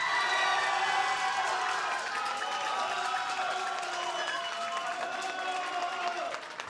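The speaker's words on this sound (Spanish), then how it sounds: "Aplauso para Sofía Casanova y Liselotte Mulián" A crowd at a gay-themed entertainment show applauds a duo, with dense steady clapping mixed with crowd murmur and some cheering, sustained at an even level before tapering at the end.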